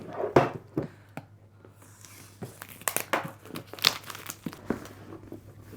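Cellophane wrapping on a boxed item crinkles close up in irregular bursts of sharp crackles and rustles, some louder snaps mixed with softer handling noise.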